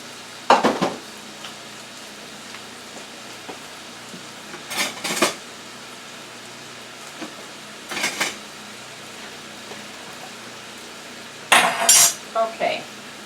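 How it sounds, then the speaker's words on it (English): Egg noodles and vegetables stirred in a pan for Chinese-style chicken mushroom noodles, giving a few separate bursts of utensil scraping and clinking against the pan between long quiet stretches, with a busier cluster near the end. "So now we're going to put the egg noodles in and the vegetables."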